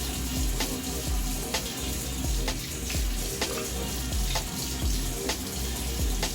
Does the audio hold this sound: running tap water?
yes